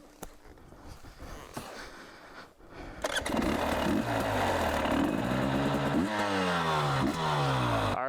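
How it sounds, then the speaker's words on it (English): A 2022 KTM 300 XC-W two-stroke dirt bike on a dirt track, starting with quiet handling noises and clicks before the engine barks into life around the three-second mark and then revs and climbs in pitch, loud and close. "All right, starting out on the KTM 300 XCW."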